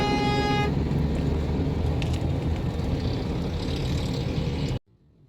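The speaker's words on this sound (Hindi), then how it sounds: "ट्रैफिक में फंसे हुए हैं।" Congested road traffic with cars stuck in a jam, a loud continuous engine rumble with a car horn toot near the start, cutting off abruptly near the end.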